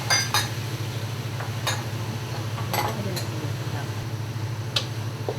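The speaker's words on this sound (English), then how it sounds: "So maybe you can give that a bit of a stir." A white and black pepper mixture stirred in a pot: scattered light clinks and scrapes of a utensil against metal over a steady low hum, fairly close, with some talking.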